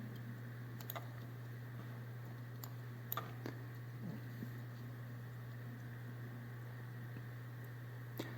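Sparse, faint keystrokes click on a computer keyboard over a steady electrical hum, a few isolated taps spread out with no one talking.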